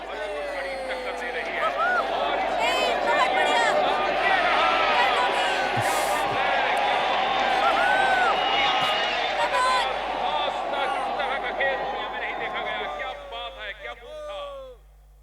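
Dense crowd murmur and chatter fill a basketball game arena, steady and loud throughout with scattered voices, then thinning slightly near the end.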